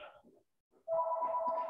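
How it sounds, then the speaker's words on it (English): A telephone rings in a room, a steady two-tone electronic ring that starts abruptly after a brief quiet and holds loud and continuous to the end, with faint voice-like sounds just before it. "sorry for the phone ringing here."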